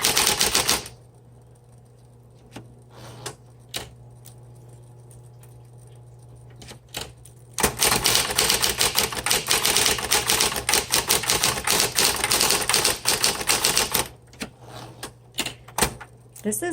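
1960s Smith Corona Coronet electric typewriter with its motor humming steadily, struck first by a few separate keystrokes and then by a dense, fast run of crisp key clacks up close, fairly quiet overall.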